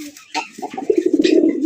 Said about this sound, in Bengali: ওই বোম্বাটা ঠিক এরকমই ডাকবে